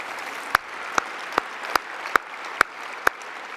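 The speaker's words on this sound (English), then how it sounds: "I would like to ask you to give a round of applause to all of them for what an extraordinary evening they put on" Audience applause at an awards evening for an honorary doctorate ceremony, a soft wash of distant clapping from a crowd with several sharp, louder claps popping out at a regular pace.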